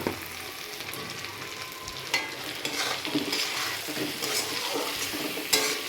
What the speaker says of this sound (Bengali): এবার মাছগুলোকে দিয়ে মশলার সাথে ভালো করে কষিয়ে নেব